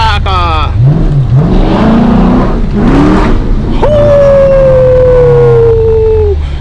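A Dodge RT with a Hemi V8 revs hard and downshifts on the street, engine pitch rising and falling with a long sustained high rev, loud and close, with people shouting over it.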